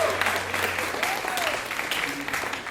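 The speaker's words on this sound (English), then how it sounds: "We can give another big round of applause for Diego on piano" Audience applauding Diego's piano playing at a student jazz band concert in a small venue, a steady wash of clapping from a crowd that carries on for a few seconds, with a faint voice or tone briefly audible underneath.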